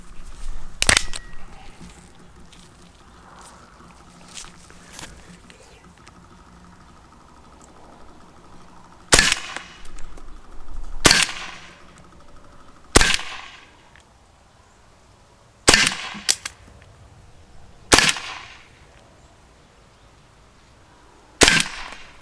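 An Umarex HDR50 CO2 pistol fitted with a tuning barrel shoots 8 g steel balls into wood, with about eight sharp, loud reports, single and in pairs, spread unevenly across quieter gaps that carry faint handling noise.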